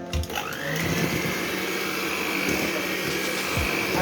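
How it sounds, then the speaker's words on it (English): An electric mixer beats cake batter made from a boxed cake mix with a steady, loud motor whir and a grinding churn. It starts within the first half second and holds evenly to the end. "I'm going to turn on the mixer."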